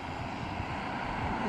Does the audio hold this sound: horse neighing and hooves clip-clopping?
no